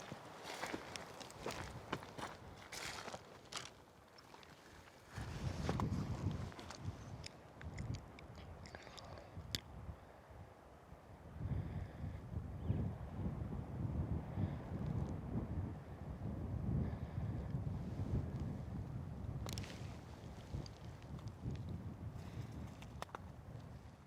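Gusty wind buffets an outdoor microphone on a hillside during an elk hunt, in low rumbling surges, with rustling and crunching steps on open ground.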